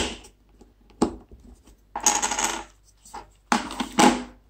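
Plastic clips snap loose one after another as a Nokia 100 phone casing is prised apart, sharp close clicks and crackling pops in irregular bursts with quiet gaps between them.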